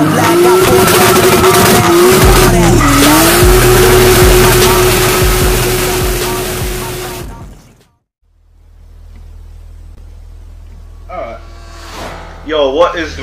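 Cammed car engine in Forza Horizon 3, loud and continuous with revving pitch sweeps and tire skids, cutting out abruptly near the middle, then a quieter low hum under a voice and brief revs at the end.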